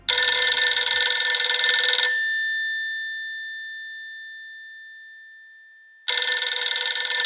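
An old-style payphone bell rings loudly and continuously for two seconds, its tone slowly fading through a long pause, then bursts into another loud ring, waiting to be answered.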